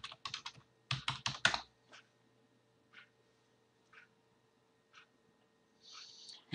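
Login username and password typed on a computer keyboard for point-of-sale software: quick bursts of close key clicks at the start, followed by sparse isolated keystrokes and a short rattle near the end.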